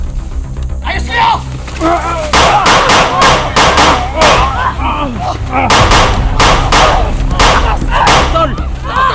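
Gunfire rings out during a tense outdoor confrontation, with loud, sharp reports in irregular bursts and clusters, close and heavy, alongside frantic shouting voices.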